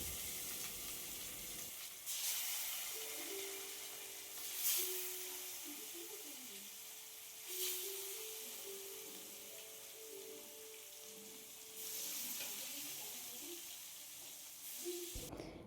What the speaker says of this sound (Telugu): నానబెట్టి ఉంచుకున్న చేప ముక్కల్ని ఫ్రై చేసుకోవాలి ఫ్రెండ్స్